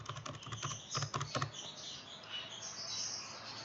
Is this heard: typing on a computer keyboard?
yes